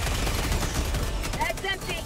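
Autocannon fire in Helldivers 2 rumbles through a dense barrage of battle noise, heavy and continuous, with a voice briefly speaking under the din.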